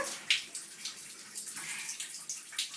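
Water sloshes and splashes softly as a small child is bathed in a tub, with irregular small splashes and trickles continuing steadily and no talking.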